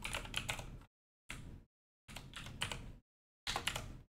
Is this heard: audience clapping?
no